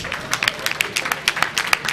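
Brief, scattered clapping from an audience at an anniversary event and public lecture at an event centre in Benin City, a handful of uneven claps rising and falling over a couple of seconds.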